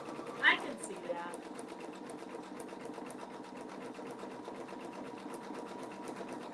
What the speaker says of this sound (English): hit the go or the start button, and it's going to stitch out the next letter